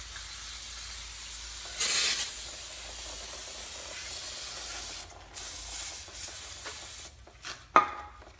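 Brake cleaner is sprayed from an aerosol can onto the rear brake assembly of a 2002-2010 Ford Explorer, giving several short, sharp hissing bursts separated by quieter pauses, heard close up with no voices.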